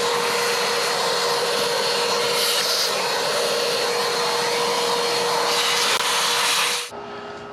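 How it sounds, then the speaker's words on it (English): A small vacuum cleaner runs with a loud, steady whining roar while cleaning the engine bay of a Mercedes R107, then cuts off abruptly near the end. "Let me do a little quick vacuum."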